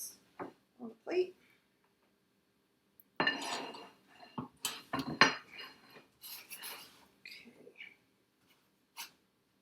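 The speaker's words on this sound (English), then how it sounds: "I'm going to put this on a plate." Food being moved onto a plate with cutlery, a scattering of sharp clinks and scrapes of utensils against dishes, close and bright, with quiet pauses between bursts.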